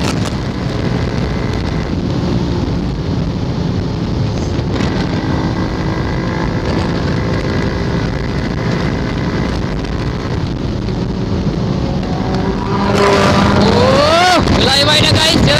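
A Kawasaki ZX10R sport motorcycle rides at speed with a steady engine drone and heavy wind buffeting, then revs climb sharply in rising sweeps near the end; voices are faintly present.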